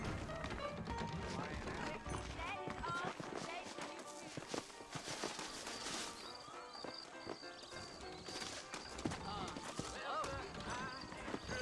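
Steady clip-clop of horse hooves trotting in Red Dead Redemption, mixed with ambient game sounds and talking voices throughout.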